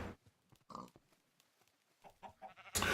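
Sheep in a video game bleat in two short, loud bursts, one early and a louder one at the end, with quiet gaps of faint game sounds between them.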